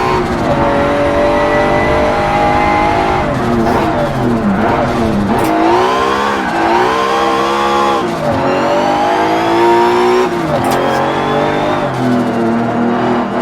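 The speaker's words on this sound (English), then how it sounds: "it's definitely not a boxer noise coming out of that car. That's like an inline 4." An inline-four race car engine in a video game revs and shifts gears continuously, its pitch climbing and dropping through corners, loud and close with occasional tire squeal.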